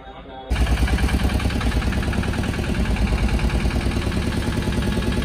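A Tata Zip XL with a starting problem fires up on its self-starter after a brief quiet moment, then settles into a loud, steady, close idle with a rapid even pulse.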